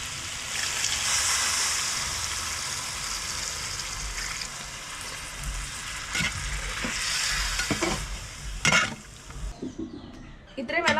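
Chicken for Kerala-style kappa biriyani simmering and sizzling in its own released juices in a pot, a broad steady hiss with bubbling and a few clinks of utensils near the end, close by.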